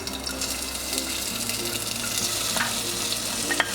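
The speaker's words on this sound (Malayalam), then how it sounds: "ഇതിലേക്ക് ഈ അരിഞ്ഞു വെച്ചിരിക്കുന്ന പാവയ്ക്കയും പച്ചമുളകും കൂടി ചേർത്ത് കൊടുക്കാം." Chopped bitter gourd and green chillies tipped into hot oil in a clay pot, a continuous close sizzle and hiss that builds slightly, with a couple of faint stirring knocks near the end.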